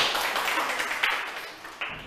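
Primary school students in a classroom clap briefly for a classmate, a soft, quick patter of small hands lasting about two seconds.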